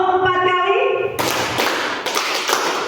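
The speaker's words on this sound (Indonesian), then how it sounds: "Tepuk 4 kali." A group at a school claps hands in unison several times, roughly four sharp claps following a spoken prompt, close and fairly loud in a room.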